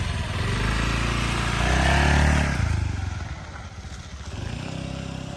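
A Honda Dio 110cc fuel-injected scooter engine drones steadily while riding, swelling louder for a moment and then easing back, mixed with wind rush.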